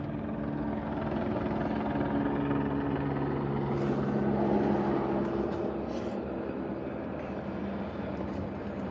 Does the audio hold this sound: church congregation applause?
no